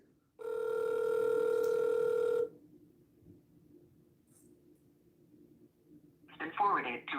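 Outgoing phone call on speakerphone: a steady ringback tone sounds for about two seconds, then a quiet pause before a recorded voicemail voice begins, close and clear.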